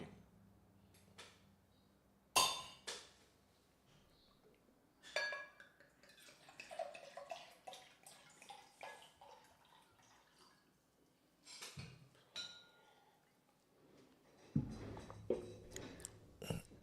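Glass and dishware clink and knock sporadically as a glass of water is fetched, with quiet drips and pouring between the sharp, close taps and a few louder handling clunks.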